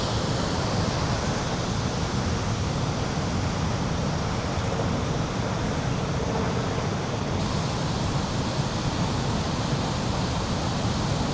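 Victoria Falls on the river between Zambia and Zimbabwe, its mist hiding the view, gives a steady, dense, loud roar of falling water with no break and no talk.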